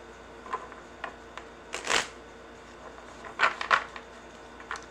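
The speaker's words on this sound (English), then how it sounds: "so I fidget, hence the shuffling of cards" Tarot cards are shuffled in a few quick riffling bursts, crisp papery flutters spaced a second or so apart, close by against a quiet room background.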